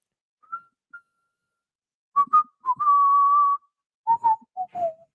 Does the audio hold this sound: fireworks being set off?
no